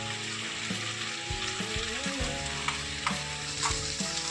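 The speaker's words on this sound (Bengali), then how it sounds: "এবার আস্তে আস্তে আমরা নারকেল এবং লঙ্কা বাটাটাকে এটার মধ্যে অ্যাড করছি।" Prawns sizzle in hot oil as coconut and chilli paste is stirred in, a steady close frying hiss with scraping stirs and small clinks throughout, no voices.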